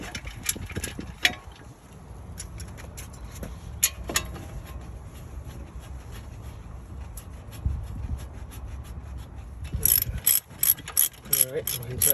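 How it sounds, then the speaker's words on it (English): A ratchet tightens the 17mm brake caliper bolts on a 2007 Lexus ES350, with close rapid clicking bursts and pauses over a low background hum, ending in quicker repeated ratchet strokes, with no voices. "go ahead and tighten down your 17mm bolts to your brake caliper"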